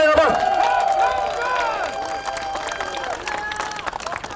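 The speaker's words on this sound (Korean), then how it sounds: "큰 박수 부탁드립니다," A crowd at a Korean election campaign rally cheers and applauds in a loud, dense wash, with raised voices rising over the clapping.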